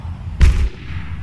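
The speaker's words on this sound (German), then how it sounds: "Wir schießen erstmal auf den Turm hier." A single heavy gunshot boom in the video game Shadowrun Boston Lockdown, fired at a turret, loud and close with a brief decaying tail over quiet background.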